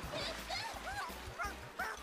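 A dog in an animated episode gives a series of short yipping barks with whimpery rises, mixed with background music and other sounds at moderate volume.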